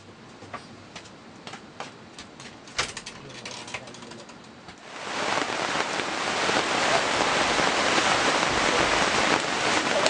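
Steady rain falls outdoors, starting as light scattered drops and then swelling midway into a dense, loud, continuous downpour.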